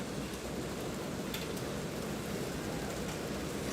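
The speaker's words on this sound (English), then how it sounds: "And the rain is coming down hard." Heavy rain pours down hard on an outdoor soccer match, a dense, continuous roar of hissing water that fills the whole moment with no voices heard.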